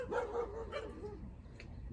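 Dogs bark outside at a campsite in Derbyshire, a few loud yapping barks in quick succession from a moderate distance, alone with no talk.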